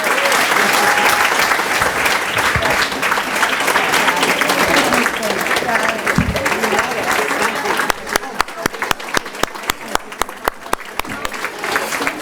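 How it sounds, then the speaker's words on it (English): Audience applause for the honorees fills the room at a women's charity breakfast, a dense, sustained wash of clapping from a large crowd that thins toward the end into scattered individual claps. "let's give a round of applause to our honorees"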